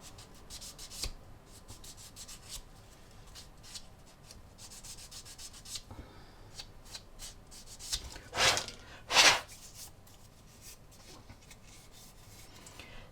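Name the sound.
shaving plastic model kit parts off the sprues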